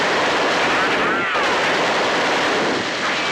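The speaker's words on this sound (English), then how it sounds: "it peppers enemies with so many bullets per second that you'd swear you're watching an old gangster flick" Rapid automatic fire from the MP60 submachine gun in the video game Remnant 2, a dense, continuous loud stream of shots running through the whole stretch with a brief dip near the middle.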